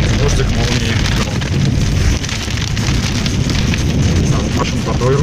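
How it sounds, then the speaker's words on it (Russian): Heavy rain pours down during a thunderstorm with lightning by the Volga, a loud, dense wash of sound with deep rumbling thunder blended underneath throughout. "Дождик, молнии, гром."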